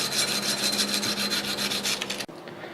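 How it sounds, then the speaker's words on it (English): A 1911 pistol trigger guard is sanded with 220-grit sandpaper wrapped around a file, giving fast, loud, rhythmic rasping strokes close up that stop abruptly near the end. "So now sandpaper. 220 wrapped around the same file."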